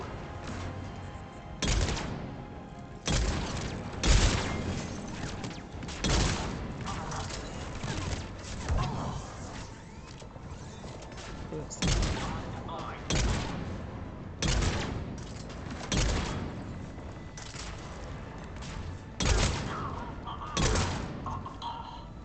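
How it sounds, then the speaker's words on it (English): Cannons fire repeatedly in Mass Effect 3 Legendary Edition, heavy booming blasts arriving every second or two over a rumbling battle din, with a voice talking now and then underneath. "Those cannons have to be stopped."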